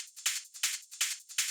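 A second group of closed hi-hat loops for a hard techno track plays as a loud, bright pattern, with accented hits about every third of a second and softer ticks between them, and no voices.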